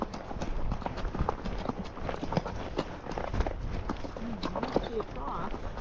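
Horses walk along a canyon trail with steady, uneven clip-clop of hooves under nearly continuous conversation, at moderate volume and fairly close.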